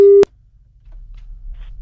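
A single short telephone tone on a call that goes unanswered, one loud steady beep lasting about a quarter second and then cutting off, followed by faint low background hum.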